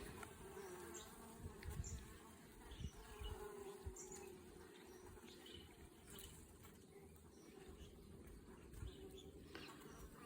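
Young honeybees buzz busily in a mini mating nuc in a backyard apiary, a steady low hum of many wings with occasional closer passes and faint rustling.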